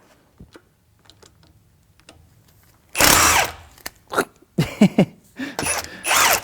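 Hand tools clink and tick against the accessory drive of a supercharged V8 in a BMW E30 as idler pulleys are removed, quiet scattered taps first, then louder bursts of metallic ratcheting and clatter close by.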